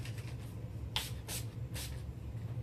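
NYX Matte Finish setting spray comes out in three or four short, soft misting spritzes, close to the face and evenly spaced, with a quiet low hum underneath.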